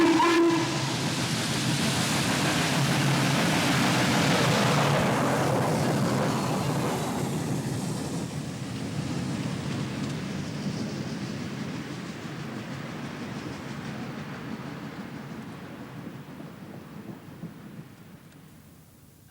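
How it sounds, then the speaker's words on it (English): Diesel locomotive climbing a grade through the twin tunnels at Montgomery on the Blue Ridge line, a loud continuous rumble and roar that swells early, then fades steadily as the train draws away. "The climb continued through the twin tunnels at Montgomery, where the engineer reduced power to cut down the fumes in a narrow bore."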